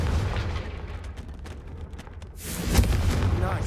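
A Confringo fire spell explosion in Hogwarts Legacy, a rumbling burst with crackling debris, swelling into a louder blast near the end.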